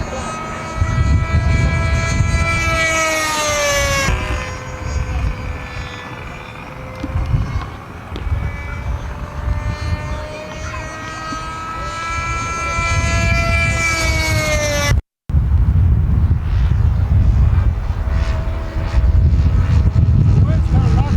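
A model airplane engine whines overhead at a flying field, its pitch rising and falling as the plane passes and turns. The buzz is continuous, loud and sometimes distant, with voices talking at times.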